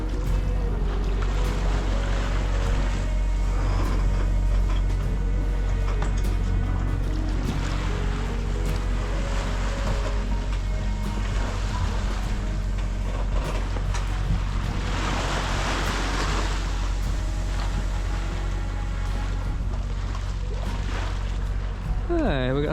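Steady engine drone and rushing water and wind aboard a sailboat motor sailing offshore against an opposing current, continuous and close, with a voice talking over it at times.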